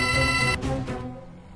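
An indoor telephone rings with a loud, close electronic ringtone that cuts off after about half a second, leaving a faint fading tail.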